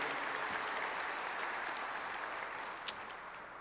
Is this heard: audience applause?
yes